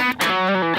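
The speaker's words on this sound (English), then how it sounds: "But so this is what the Fuzz sounds like." A brief burst of electric guitar with thick, compressed fuzz distortion, a sustained buzzy chord after a quick break.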